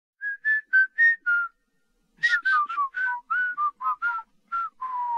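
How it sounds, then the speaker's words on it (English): A film character whistles a tune alone: five clear notes, a brief pause, then a longer run of quick melodic phrases, close and bright with no other sounds. "I thought it was cool that Hughes has that character whistle that song"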